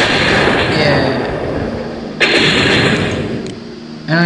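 Cannon fire in the Animator vs Animation special edition game, with sudden loud blasts bursting out of a dense, busy wash of game noise, one midway and another near the end.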